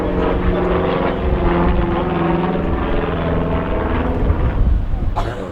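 A propeller aircraft performs an aileron roll at an airshow, its engine a loud, steady droning roar with a throbbing prop beat that holds throughout.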